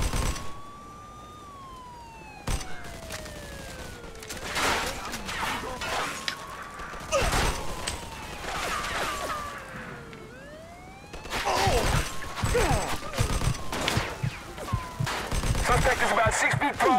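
Gunfire in a Mafia 2 shootout with police, sharp broadband shots bursting at intervals among wailing police sirens and game sounds, loudest in a dense cluster near the end.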